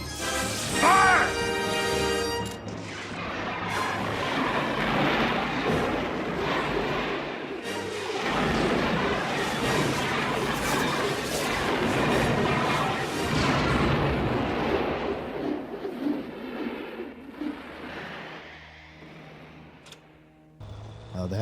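Tank cannon fire in the video game Battlefield V, with heavy booming blasts and rumbling explosions that fill most of the clip at high loudness, with voices mixed in.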